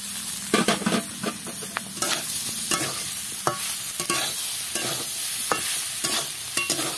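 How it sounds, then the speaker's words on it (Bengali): Fried pointed gourd and potato pieces go into a pan of frying onion, giving a continuous sizzle broken by repeated sharp spatula scrapes and clacks against the pan, close and fairly loud, with no talking. "এখন আমি দিয়ে দেবো ভেজে রাখা পটল আর আলুগুলো।"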